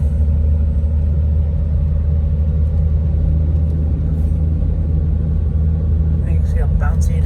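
A 2010 Ram Cummins Megacab truck rolls over a rough, bumpy road, a steady loud low rumble of engine and road noise filling the cabin throughout, with a brief faint rattle near the end.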